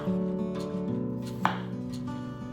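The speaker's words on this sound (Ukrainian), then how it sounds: "Почищену картоплю нарізаємо так, як зручно. Я нарізала кільцями." Peeled potatoes are sliced into rings with a knife, heard as one crisp chop on a board over a steady background hum, with no voices.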